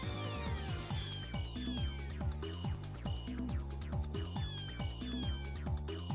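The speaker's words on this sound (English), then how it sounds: "if you listen closely, you could actually hear meows in the song" Musical soundtrack from the video game Kokororune Chapter 2, a steady rhythmic melody with bright plucked notes that include cat meow sounds woven into the tune, continuous and fairly loud throughout.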